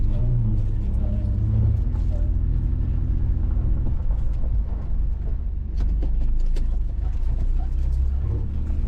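Classic later-model Range Rover engine rumbling low and steady during a slow U-turn, with light revving swells and intermittent clicks and knocks, close and continuous throughout.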